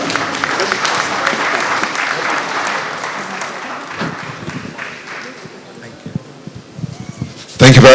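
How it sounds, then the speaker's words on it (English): Applause from the audience at the Nigerian Diaspora Investment Summit, loud and busy at first and then thinning to scattered claps, with a voice coming in over it and a loud burst at the end. "A round of applause."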